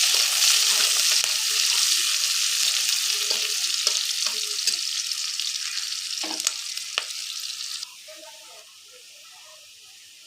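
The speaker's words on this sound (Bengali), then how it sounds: "পেঁয়াজ কুচিগুলো সামান্য ভাজা হওয়ার আমি অপেক্ষা করছি" Chopped onions fry in a pan after garlic, giving a steady crackling sizzle with scattered stirring scrapes; the frying sound eases to a quieter hiss toward the end.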